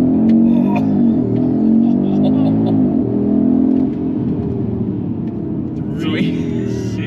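An Audi RS3 pulls away under launch control, its engine loud and close with a rising rumble through the gears while someone talks over it.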